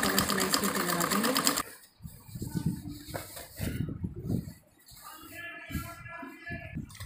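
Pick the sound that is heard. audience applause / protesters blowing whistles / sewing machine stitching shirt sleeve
sewing machine stitching shirt sleeve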